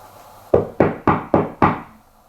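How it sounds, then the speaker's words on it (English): Five sharp knocks on a door or wall during a nighttime paranormal investigation in an old house, evenly spaced at a quick steady rhythm, close and loud, each ringing briefly in a quiet room. "I'll keep knocking."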